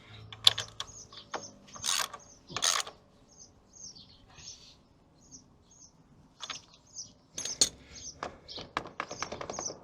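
Wrench clicking and ratcheting as 13 mm and 10 mm nuts are tightened on Voge 800 Rally motorcycle suspension, with close, uneven bursts of metallic clicks and turns and faint chirping between strokes.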